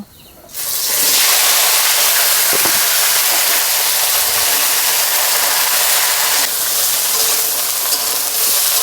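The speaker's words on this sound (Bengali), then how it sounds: "ফুলকপি আছে গাজর আছে আর পুঁই মিটুলি আছে একসাথে ভেজে নেব" Cauliflower, carrot and other winter vegetables hit a hot wok and burst into a loud, steady frying hiss that carries on, close and unbroken, with no voices.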